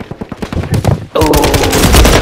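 Call of Duty Warzone gunfire on Rebirth Island: a sparse burst of shots, then a loud sustained automatic volley that rattles on steadily to the end, with voices faintly underneath.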